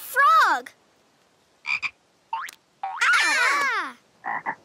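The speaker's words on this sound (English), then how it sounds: "Hey, look! There's a frog." Cartoon frog croaks, cartoonish and close: a long warbling croak, a few short chirpy bursts and gaps, then another long wavering croak ending in quick clipped calls.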